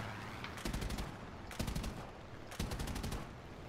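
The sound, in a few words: machine gun fire from a plane in War Thunder video game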